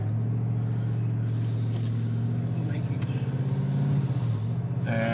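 Vehicle driving along remote Route 389 of the Trans-Labrador Highway in northern Québec, a steady close engine drone and road rumble throughout, with a brief rise in engine note near the end.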